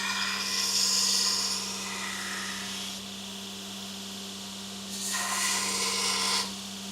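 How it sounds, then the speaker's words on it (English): A knife blade's bevels are ground on a blacksmith's grinder over a steady motor hum, with two bursts of harsh, close grinding separated by a quieter stretch. "let's even up that grind in the front"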